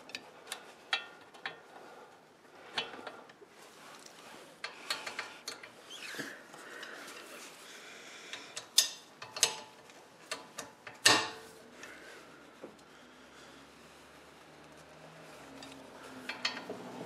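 A Torx 55 bit works the brake caliper bolts on a 2012 Porsche 911 Carrera (997.2), giving irregular close metallic ticks, clicks and scraping knocks with quiet gaps between.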